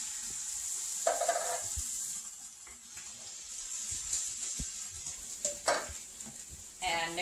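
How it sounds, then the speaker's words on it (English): Butter beans tumble into a hot pan with chorizo-style soy riso and are stirred, giving a soft steady sizzle broken by a few scraping stirs and clinks near the end. "So you just dump them into the pan."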